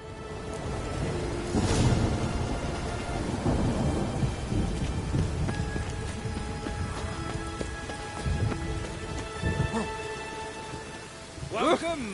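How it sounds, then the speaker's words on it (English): Rainstorm in The Witcher 3 game world: steady rain hiss on surfaces with heavy rolling thunder rumbling low, a sharp crack early on, and voices talking over the weather. "Rain again."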